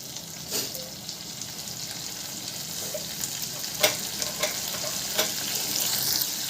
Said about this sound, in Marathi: याला पण मस्त तेलामध्ये फ्राय करून घ्यायचं, मसाल्यात मस्त एकजीव द्यायचं